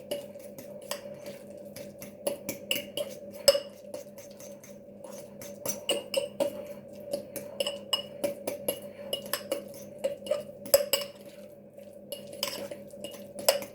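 Soaked bread is mashed in a bowl with cutlery, a series of close, irregular metallic clinks and soft squelching taps over a faint steady background hum.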